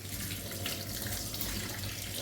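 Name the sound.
washing crab under running tap water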